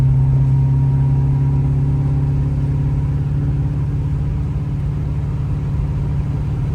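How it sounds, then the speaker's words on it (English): Chevy S10 pickup swapped with a 6.0 V8 and T56 manual transmission being driven, its engine droning steadily at a loud, close, even pitch throughout without clear revving peaks. "I almost forgot how to drive the truck"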